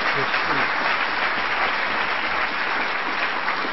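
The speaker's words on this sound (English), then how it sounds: "Round of applause once again for Gary Anderson, ladies and gentlemen." Audience applause at an F1 in Schools world finals awards dinner in Austin, Texas, a dense, steady burst of clapping from a large crowd that stays loud and unbroken throughout.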